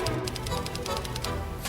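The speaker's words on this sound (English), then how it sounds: "typewriter solo with orchestra." Mechanical typewriter used as a solo percussion instrument with an orchestra, its sharp rapid key clacks ticking steadily over sustained orchestral tones, no voices present.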